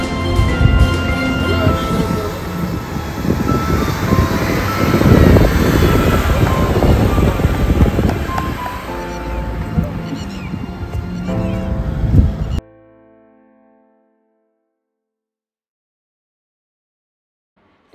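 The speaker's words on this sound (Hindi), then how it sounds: "तो यहाँ से जिप्सी पानी से निकल रही है, रिस्की लग रहा है" Maruti Gypsy off-road jeep driving out of water on a rough track, its engine roaring loud and strained for about twelve seconds before the sound cuts abruptly to near silence.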